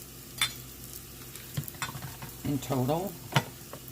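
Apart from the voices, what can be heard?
butter being stirred around in a pan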